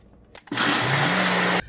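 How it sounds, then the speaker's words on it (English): A Ninja blender whirs loudly at close range for about a second, churning frozen fruit, crushed ice and water into a smoothie, with a steady motor drone that starts abruptly and cuts off. "I put it through my Ninja blender."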